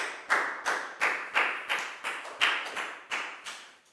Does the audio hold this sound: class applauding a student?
yes